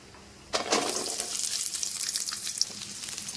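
Ingredients for a mushroom curry sizzle and spit in hot oil in a pan, with a steady, close frying hiss that starts suddenly and crackles on with occasional stirring scrapes.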